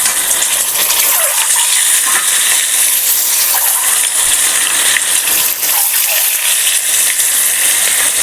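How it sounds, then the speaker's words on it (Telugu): Halved boiled eggs frying in a pan with turmeric and salt, giving a steady, loud sizzle with a bright hiss and occasional faint clinks, and no talking. "పసుపు, ఉప్పు వేసాను కదా, ఎగ్స్ ఇట్లా మంచిగా ఫ్రై అవుతున్నాయి"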